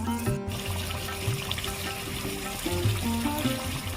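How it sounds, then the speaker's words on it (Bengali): Water poured into potato curry in a pan, a steady close trickling and splashing with a bubbling, gurgling flow lasting throughout. "এবার জল দিয়ে দেবো"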